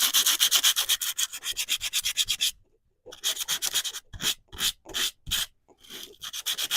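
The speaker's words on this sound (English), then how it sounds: "sandpaper from the dollar store, and then I was trying to use the disc, the sanding disc from Tim Holtz" Dollar-store sandpaper rubbed briskly over packing paper in a craft background technique, a close, steady run of rhythmic back-and-forth scratchy strokes, a brief pause, then shorter separated strokes resuming.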